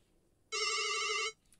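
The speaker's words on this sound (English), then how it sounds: "In the profile section, we can go to the ringtone, and the speaker here is pretty loud." A BlackBerry Curve 8900 plays a ringtone through its loudspeaker, one clear, bright electronic tone lasting under a second, loud against a quiet background.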